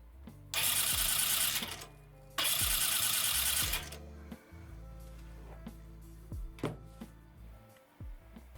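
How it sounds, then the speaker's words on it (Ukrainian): A collector electric motor wired straight to a battery serves as a starter, cranking a homemade T-150 tractor engine in two loud whirring bursts of about a second each, with mechanical clatter and knocks in the gaps. "під'єдную колекторний двигун напряму до акумулятора. І ось це вже щось схоже на роботу стартера"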